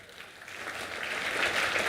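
Audience applause for ISRO at Amazon Smbhav 2023, a steady wash of clapping from a large crowd that swells gradually toward the end, with no voices over it.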